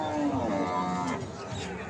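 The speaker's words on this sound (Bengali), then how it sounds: "অনেক সুন্দর সুন্দর গরু" A cow at a cattle market lets out one long, steady low moo, loud and close, filling nearly the whole moment before tapering off.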